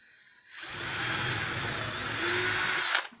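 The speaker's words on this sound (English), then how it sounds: "pull the trigger and push the drill down." A handheld power drill boring through material while making homemade book separators, whirring up after a short pause, holding a steady high whine for about two seconds, then cutting off abruptly.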